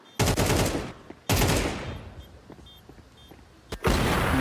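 Sniper rifle shots in a Counter-Strike match, two sharp loud blasts with ringing decay followed by a third shot, close and prominent with muffled background game noise.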